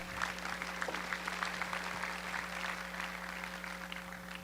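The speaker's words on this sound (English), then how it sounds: "let's give a warm round of applause once again to Matt." Steady applause from a conference audience at SVVR 2015, dense clapping holding at an even level throughout, with a faint electrical hum underneath.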